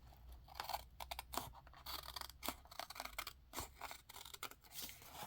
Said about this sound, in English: I will use my smaller scissors because they just do better for me